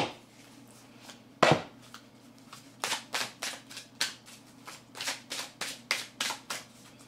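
Oracle cards for angel-prayer readings shuffled by hand: a series of about a dozen crisp riffling bursts in a steady rhythm, close and fairly quiet, with no talking.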